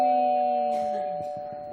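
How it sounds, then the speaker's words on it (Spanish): A doorbell chimes in a home, sustained ringing tones decaying over under two seconds, with faint voices in the background. "¿llaman al timbre?"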